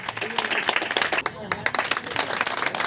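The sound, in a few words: audience applause welcoming Sunaina Chautala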